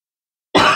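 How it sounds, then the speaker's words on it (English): A single short, harsh smoker's cough from a person with allergies bursts out after a moment of silence, close and loud. "So I apologize for the coughing."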